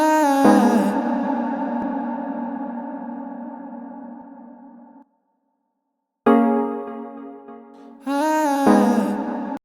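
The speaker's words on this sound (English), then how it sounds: "And then I throw a reverb in it," A sustained vocal ad-lib drenched in exaggerated reverb, trailing off, then dropping to silence before two more washed-out bursts return.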